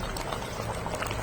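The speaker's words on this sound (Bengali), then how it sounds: "মাংস প্রায় সিদ্ধ হয়ে গিয়েছে" Beef simmering in milk in a pot on the stove, a soft continuous bubbling with small pops, quiet and close, no talking.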